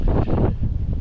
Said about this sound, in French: il y avait des vents jusqu'à 80 km/h